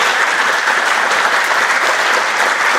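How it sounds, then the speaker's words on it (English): Steady, dense round of applause from a gathered audience at a celebration of life, loud and sustained throughout with no voices standing out. "one more round of applause"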